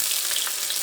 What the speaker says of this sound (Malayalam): ഇതിലേക്ക് സവോളയും പച്ചമുളകും ചേർക്കാം.